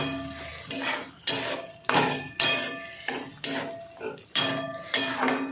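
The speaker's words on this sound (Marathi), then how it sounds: "आता याला चांगलं परतून घेणार आहे" A spoon scrapes and clatters against a pan while potato and capsicum curry with peas is stirred, in about eight distinct, regular strokes, close and fairly loud, with no talk over them.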